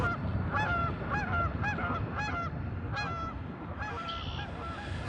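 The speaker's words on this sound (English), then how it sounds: "Them geese was just sitting there. They was not happy with me." Geese in a swamp honk repeatedly, a run of loud, nasal calls in quick bursts close by, over a constant wash of background noise with no talking.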